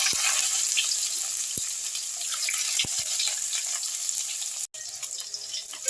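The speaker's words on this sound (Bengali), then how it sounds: "পেঁয়াজটা একটু ভাজা ভাজা হয়েছে ফোড়নের সঙ্গে।" Chopped onion frying in hot oil with panch phoron and black cumin for a Bengali drumstick-flower chorchori, giving a steady close sizzle with a few sharp ticks and one brief dropout, no talk.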